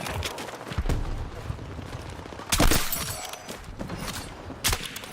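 Gunfire in the video game Battlefield 6: scattered sharp shots and crackling bursts, with two louder volleys standing out amid a busy, noisy battle soundscape.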